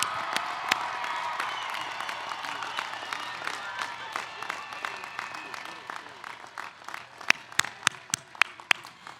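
Graduation ceremony audience at Chico State applauding, a broad wash of clapping and cheering that swells at first and gradually thins to scattered, distinct individual claps near the end.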